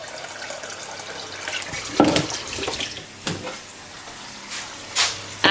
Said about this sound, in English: take a saucepan, put some water in that